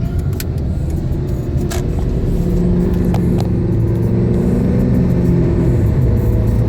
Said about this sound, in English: I'm going to rev it a little bit.